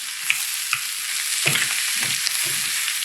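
Corned beef hash crisping and sizzling in a pan, a steady broadband fry with several scraping stirs and a few sharper spatula knocks, fairly close and without voices.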